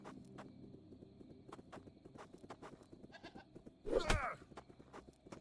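Goats bleat in the post-apocalyptic survival game Plains of Pain. One loud, wavering bleat stands out against quiet rhythmic clicks and footsteps, and fainter game sounds run beneath it.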